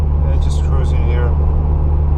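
A car cruising through the streets of Tallinn, Estonia, a steady low engine and road rumble from inside the cabin, with someone speaking briefly over it.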